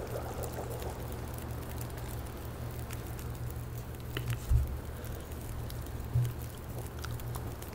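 Water being collected in the video game The Long Dark: a faint, steady trickling and pouring wash with a low hum underneath and a couple of soft thuds midway, no talk.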